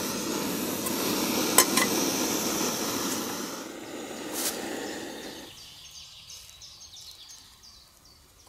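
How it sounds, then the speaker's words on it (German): Water boiling in a pot on a stove while a freeze-dried trekking meal is prepared, giving a steady close hiss and rumble that stops partway through and leaves near silence. "Gut, das Wasser kocht."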